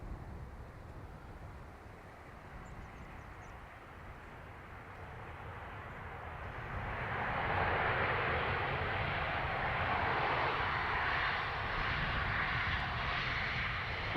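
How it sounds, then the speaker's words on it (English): A landing airliner roars down the runway at Dublin Airport on thrust reversers, a distant, broad engine rumble that swells about halfway through and holds steady. "there's more reverser being used, as you can hear"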